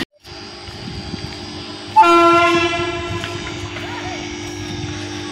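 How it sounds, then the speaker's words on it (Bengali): A Sealdah–Dankuni local train pulls out of a platform at Dum Dum station, its loud horn blaring partway through over the steady rumble and clatter of the moving carriages, heard close from the platform. "আমরা যে ট্রেনটা করে এলাম প্ল্যাটফর্ম ছেড়ে বেরিয়ে যাচ্ছে সামনে।"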